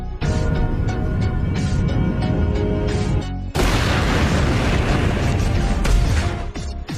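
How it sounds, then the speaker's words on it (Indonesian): A helicopter explodes with a loud, sustained roar, heavy crashing and rumbling debris, followed by a second burst partway through and a fading rumble. "Akhirnya Dragovic tewas dan meledak bersama helikopter tempat itu."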